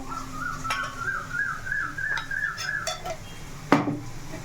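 Chicken pieces being mixed by hand with chilli powder, turmeric and rock salt in a metal bowl, giving soft scraping and clinking against the vessel, with a sharper knock near the end and a faint whistle-like tone in the background.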